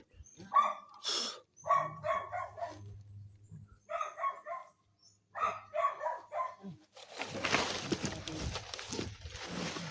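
A dog barks in several rapid bursts of yips and barks with short pauses between, fairly close, followed by noisy rustling at the end.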